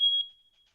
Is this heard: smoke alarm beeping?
yes